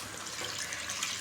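Water poured from a glass into cooked chicken biryani masala in a pot, a steady close splashing gush with no talk over it.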